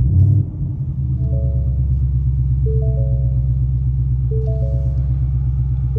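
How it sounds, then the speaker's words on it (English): A Ford Mustang GT's 5.0 V8 fires up with a loud burst, then settles into a steady, rumbling high idle that holds close and continuous throughout. "So right now I'm just waiting for that high idle to go down."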